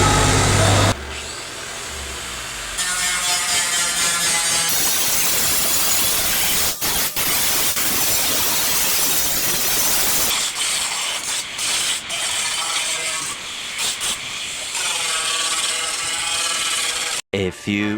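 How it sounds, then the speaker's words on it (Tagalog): A grinder runs steadily and loudly for most of the stretch during metal work, a continuous harsh whine with brief dips and a short stop near the end, with no talk over it. "magtugod na ta grinder"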